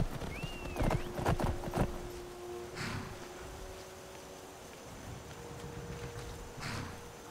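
A horse's hooves clip-clop in a brief cluster of clear steps in the video game Skyrim with the Wildlander setup, followed by quieter ambient rustling and a few softer thuds.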